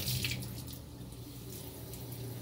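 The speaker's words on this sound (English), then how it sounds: "Here, let me turn the water down a little bit." A tap runs into a sink with a steady splashing gush, somewhat quiet and continuous, and a brief brighter splash near the start.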